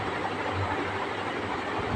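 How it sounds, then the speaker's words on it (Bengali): A train runs on the main line near Dum Dum junction, heard as a steady low rumble and broad rail noise with no clear clicks, moderately loud and continuous. "ওদিকে একটা ট্রেন মেন লাইনে যাচ্ছে"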